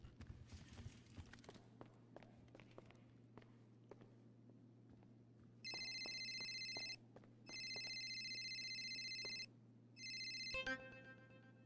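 Phone ringing during a call in a video game: electronic ringtone bursts start partway through, three loud repeating rings separated by short gaps, over a steady low hum with faint footsteps before them.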